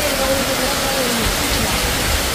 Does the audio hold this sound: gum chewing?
no